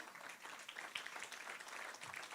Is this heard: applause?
yes